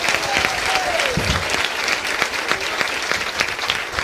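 Church congregation applauding a worship leader at a REAJ gathering: dense, sustained clapping from a large crowd, steady and loud throughout, with a faint voice briefly rising above it early on.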